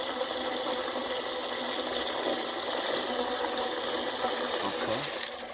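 Water pouring steadily into a swimming pool converted into a koi pond, a constant close rushing hiss with faint mechanical whir beneath, no distinct talk.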